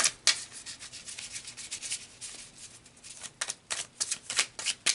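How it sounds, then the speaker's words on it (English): Tarot cards are shuffled close up, giving soft rubbing and riffling swishes in bursts, with a run of sharper, faster card flicks toward the end. "So let's pull some more tarot."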